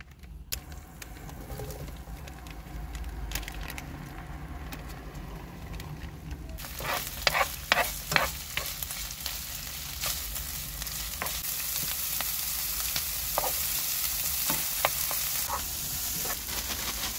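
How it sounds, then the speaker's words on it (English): Turkey breast frying in garlic butter in a pan at a camping spot on an industrial estate, a quiet low sizzle that swells into a brighter, steadier crackle, with a few clinks and scrapes of stirring. "we're going to give the turkey breast a little bit of a, a heat up and a cook in the garlic butter"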